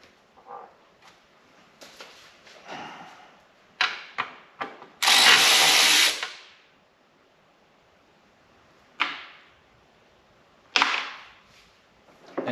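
A power tool working a transmission pan bolt on a Toyota/Lexus 5-speed automatic: short sharp whirring bursts at irregular intervals and one loud, sustained buzzing run of about a second, between quiet gaps.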